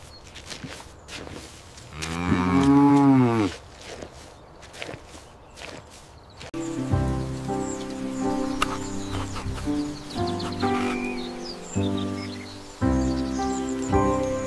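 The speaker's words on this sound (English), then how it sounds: "It's a cow." A cow gives one long, loud, drawn-out moo near the start, followed by hollow footstep-like thuds and rhythmic tonal sounds.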